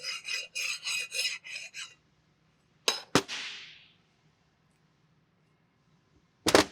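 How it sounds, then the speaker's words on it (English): A metal file is drawn lightly across a flat pump surface during an HXL Series pump rebuild. Several quick rasping strokes come close and clear, then a pause, a sharp clink, a fading rasp and a final scrape, with no talk. "we'll go ahead and take our file, run it across the surface lightly just to ensure there's no high spots"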